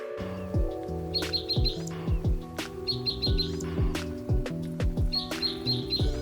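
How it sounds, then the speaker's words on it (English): A spotted towhee calls repeatedly in short chirping phrases, fairly close, over a busy background of steady tones and sharp clicks. "Just listen to her call."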